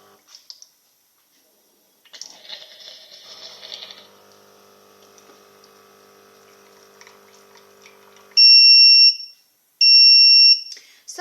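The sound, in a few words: Tommee Tippee Perfect Prep machine double beep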